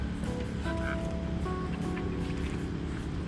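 Rain falls at night on a tarp stretched over a tent at a campsite, a steady dense hiss with no pauses and a few faint tonal sounds in the background.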